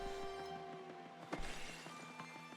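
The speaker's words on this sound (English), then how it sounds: "Why do these trees sound like glass?" Tree struck with a hammer in the Paper Mario video game, giving a bright glassy shatter-like crash around the middle, over steady game music, with no talk.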